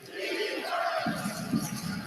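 A basketball arena crowd in Minnesota stands and roars late in a close game, a steady loud wash of cheering with a swell near the end.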